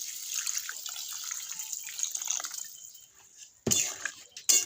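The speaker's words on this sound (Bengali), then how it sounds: "জিরের বাটিটা ধুয়ে আমি এখানে জল দিয়ে দিলাম" Water poured from a rinsed cumin bowl into a cooking pot of bhetki fish with gathi kochu (taro), a soft steady trickle and splash running for several seconds, then two louder sharp splashes near the end.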